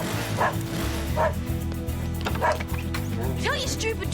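A dog yips and barks several times in short bursts, close and fairly loud, mixed with whimpering, while people talk and shout over it in a tense outdoor scene.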